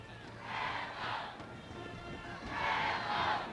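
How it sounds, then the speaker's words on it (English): Football crowd at Papa John's Cardinal Stadium during a Class AAA state championship game, giving a steady roar that swells twice. "Great crowd on hand here at Papa John's Cardinal Stadium."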